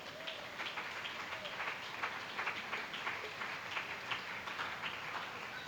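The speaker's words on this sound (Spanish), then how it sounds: "Dale fuerte aplauso al Señor." A church congregation applauds during a Spanish-language sermon, a steady wash of many hands clapping at moderate distance that carries on evenly throughout.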